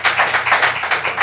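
A township board audience at a commissioners' work session breaks into applause, a dense, steady patter of many hands clapping in rolling waves for just over a second, with no voices on top.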